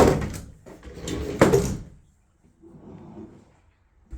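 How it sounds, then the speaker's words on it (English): A door swings and bangs shut nearby with a sharp thump and rattle, followed by a softer second knock and a quiet moment, with no talk. "And then we can never forget, close the door."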